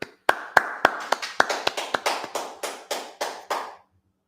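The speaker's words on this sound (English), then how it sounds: "Clap that up." Congregation clapping at a Sabbath church service, about a dozen sharp, fairly quick claps in a loose rhythm that trails off, close and clear with no talking.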